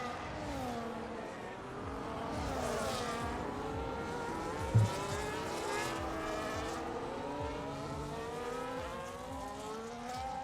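Alpine Formula 1 race car engine in an F1 video game race at Las Vegas, a high-pitched screaming whine that rises and falls through gear changes as the car is heard at speed, with other engines droning in the background.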